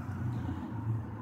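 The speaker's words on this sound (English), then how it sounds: "Sorry for the noise of the traffic if you can hear that." A low, steady rumble of road traffic passing nearby, a brief continuous drone without voices.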